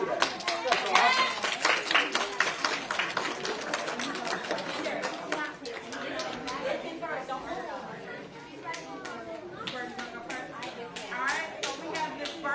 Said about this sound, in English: give yourselves a round of applause for reading today